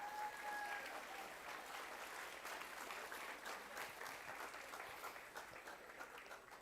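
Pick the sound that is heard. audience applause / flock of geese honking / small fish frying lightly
audience applause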